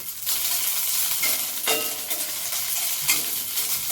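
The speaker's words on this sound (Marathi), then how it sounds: "आपण एकदम एक छोटा बारीक चमचा तेल घेतले, त्यामध्ये मिरच्या टाकून घेऊ" Green chillies frying in a small spoonful of oil make a loud, close, steady sizzle, with two sharp stirring scrapes partway through and no voices.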